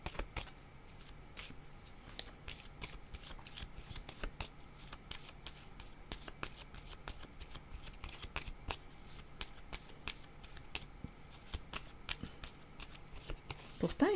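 Tarot cards are shuffled over and over, their soft riffling flutter and taps steady and close, with faint speech at a low level underneath.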